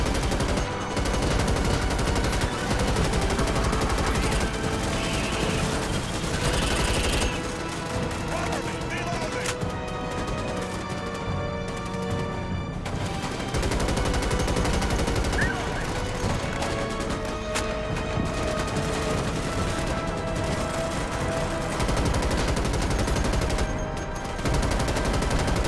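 Sustained assault rifle fire in a Starship Troopers game against swarming bugs, a dense, loud, continuous rattle of shots with explosive crashes, layered under constant game noise and a talking voice.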